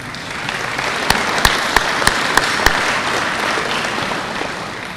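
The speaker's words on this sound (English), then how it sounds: "So please, a nice round of applause for those gentlemen." Ceremony audience applauds honorees with a steady wash of clapping, several sharp louder claps standing out near the middle, no speech over it.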